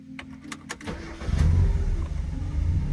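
A Mazda Miata engine, left sitting for five years and now with new injectors, cranks with a few sharp starter bursts, catches, and settles into a steady close idle with its air flow meter unplugged.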